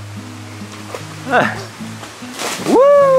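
Children jump into cold outdoor water, landing with one loud, close splash near the end, while people talk and a voice cheers just before.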